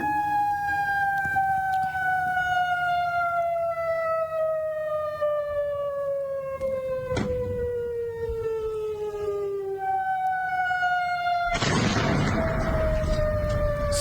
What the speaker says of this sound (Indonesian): Sirine peringatan pun kembali meraung di Yordania.